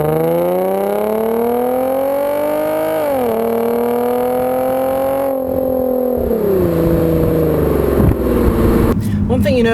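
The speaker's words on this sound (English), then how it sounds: "I love the sound of V6 engines with exhaust" A 2013 Hyundai Genesis 3.8 Coupe V6 with its exhaust revs up and settles several times, a loud close engine note rising and falling in pitch before a rougher, noisier stretch at the end.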